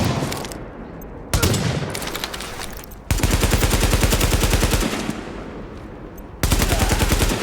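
Rapid automatic gunfire from shooting enemies in the video game The Division, loud and close, in sustained bursts with brief pauses between volleys and no talk.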